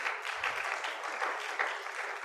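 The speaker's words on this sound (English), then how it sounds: "Y'all clapping because y'all glad I'm through?" Steady, sustained clapping from a church congregation at a Sunday evening service in Pontiac, a dense even wash of many hands heard from a little distance, with no voices over it.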